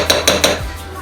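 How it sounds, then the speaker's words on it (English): Cream cheese being worked into cooked rice in a dish, three quick utensil clinks against the dish in a row, then a short soft scrape, close up and with no voices. "So all I'm going to do now is get some cream cheese mixed in with my rice"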